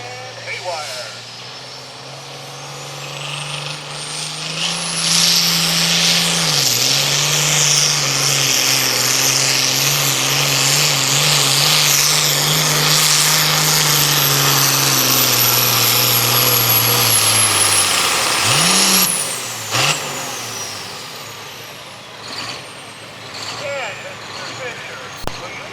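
A Super Farm class pulling tractor, the Haywire International, roars at full throttle during a truck and tractor pull. The loud sustained engine drone climbs in pitch and then cuts off sharply near the end.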